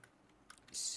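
Keys clatter on a computer keyboard as code is typed, a few quiet close taps followed by a louder burst of clicks near the end.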